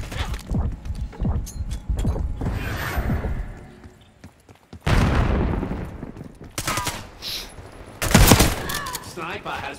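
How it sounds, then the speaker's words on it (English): Shotgun blasts in Call of Duty Warzone: loud, sharp booms with heavy crashing tails that stand out from a busy background of in-game gunfire and voices. "I'm one-shotting with the shotgun."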